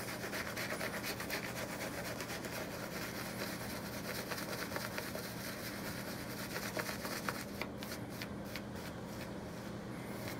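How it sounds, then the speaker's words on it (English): Steady, continuous wet swishing and rubbing of a shaving brush whipping shaving soap lather, close and even throughout, with quicker strokes near the end. "finish off the lather for our first pass"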